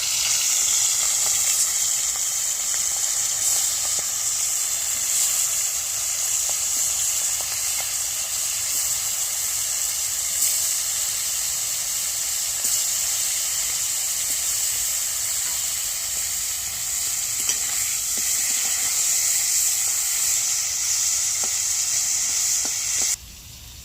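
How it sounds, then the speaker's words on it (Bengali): Steady loud sizzling of hilsa fish heads frying in hot oil, a continuous crackling hiss that runs unbroken for over twenty seconds. "এখন মাথাগুলো আগে ভেজে নিচ্ছি"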